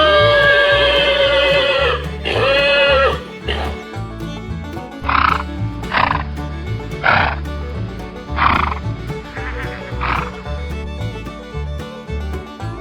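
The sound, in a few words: horses neighing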